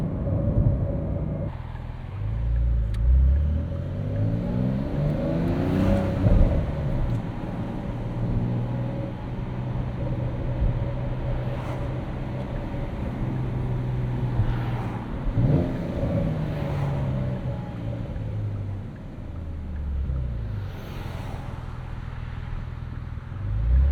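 A 2025 Porsche 911 Carrera T (992.2) with a six-speed manual on a morning commute, a low engine drone and road rumble heard from inside the cabin, rising and falling as it accelerates and shifts, with no talking.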